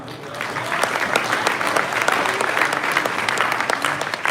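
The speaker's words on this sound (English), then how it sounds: "round of applause to Todd" Crowd at the Hot Wheels Collectors Nationals finale claps for ticket winner Todd Cooper, a continuous mid-level round of applause with scattered voices mixed in, steady throughout.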